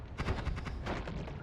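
Explosion from a detonation in a wand-crafting video game: a quick cluster of crackling blasts and pops in rapid succession, fairly quiet and close.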